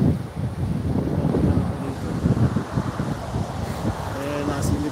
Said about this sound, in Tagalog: Malamig at saka malakas ang alon.